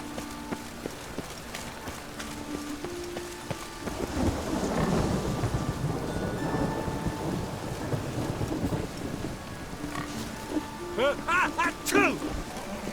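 Rain falls steadily in Witcher 3 while a deep rolling thunder rumble swells in the middle and lingers, followed by brief higher tonal sounds near the end over the ongoing downpour.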